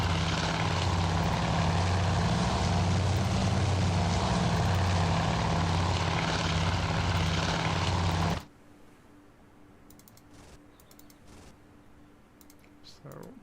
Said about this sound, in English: Torpedo bombers are already on the way back thanks to the early launch.